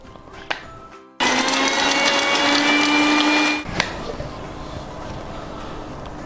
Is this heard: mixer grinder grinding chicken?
yes